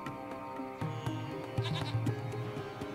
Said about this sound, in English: It's a small goat.